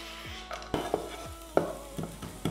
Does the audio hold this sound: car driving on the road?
no